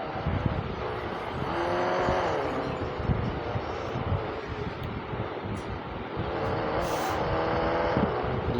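A motor vehicle engine hums and revs steadily nearby for several seconds, with wind-like rushing over it, as an auto rickshaw pulls up.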